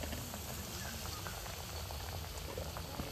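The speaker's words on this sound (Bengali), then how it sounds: "গরম তেলের মধ্যে এই পিঠের শেপটা দিয়ে দেব।" Pitha dough frying in lightly heated oil, a steady dense bubbling sizzle that stays close and even throughout, with no voices.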